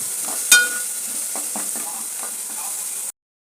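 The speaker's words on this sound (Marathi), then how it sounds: "त्याला आपण परतून घेऊया." Vegetables and a few cashews sautéing in a pan: a sharp utensil clack opens a dense, even sizzle with intermittent stirring scrapes, loud and close, cutting off abruptly near the end.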